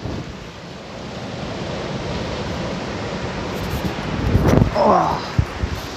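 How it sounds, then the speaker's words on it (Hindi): Sea waves wash against a rocky shore as a broad, steady rush with wind noise on the microphone, swelling louder toward the end with a brief voice and thumps. "समंदर के किनारे हूँ मैं, ये देखिए समंदर है पीछे"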